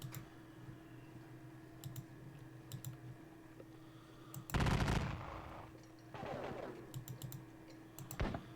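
Musket volleys in a Battle of Waterloo and Wavre wargame, with faint scattered clicks, then a loud burst of crackling fire, a softer second volley and a final sharp report, all with no talk.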